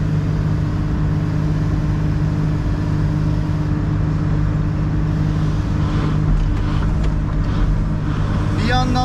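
A Komatsu PC300 excavator digs with its bucket on a construction site, its diesel engine droning loud and steady throughout, with faint clanks near the end and someone talking under the noise.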